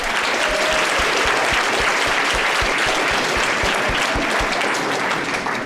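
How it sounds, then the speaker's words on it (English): A large audience applauds loudly and steadily, a thick uninterrupted roar of clapping close by, with individual hand claps audible throughout and no speech over it. "Let's give her a round of applause, please."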